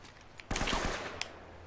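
Gunfire from the video game Uncharted during a headshot: a sharp burst of several rapid, close shots followed by a quieter single crack, over faint background sound.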